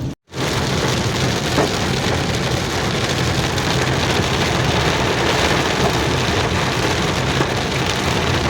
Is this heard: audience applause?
no